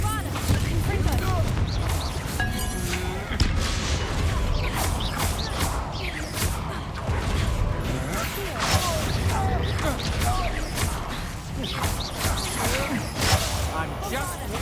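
Spell blasts such as Bombarda and Confringo in Hogwarts Legacy crackle and crash amid combat noise, with repeated sharp impacts over a busy, steady background.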